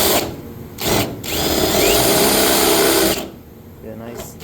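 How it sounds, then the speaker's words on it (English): A power drill bores through a body panel on a 1969 VW Bus under restoration, a loud whining buzz in two long bursts with short pauses between, close by and heard alone. "I'm going to drill this out."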